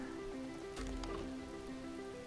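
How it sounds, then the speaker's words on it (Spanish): Steady rain pattering down in the survival game Mr. Prepper, a continuous even hiss of falling drops with a faint game tone pulsing underneath and no talking. "Ahí está lloviendo, ahí está. Conviene que llueva."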